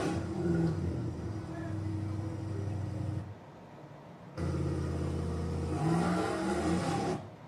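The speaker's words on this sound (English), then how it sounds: "the higher stall torque converter allows the engine RPM to build up and get those tires spinning" An LS-powered car with a higher-stall torque converter revs hard and spins its tires, a loud sustained engine roar that drops briefly before surging again, with a voice talking over it.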